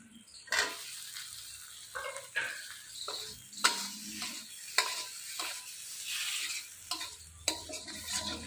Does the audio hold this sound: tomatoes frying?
yes